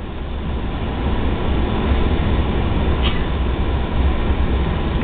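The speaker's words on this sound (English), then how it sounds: "Why is that train so slow?" A constant low rumble of a slow-moving CN freight train rolling by nearby in New Haven, Michigan, heavy and unbroken, without horn blasts or voices.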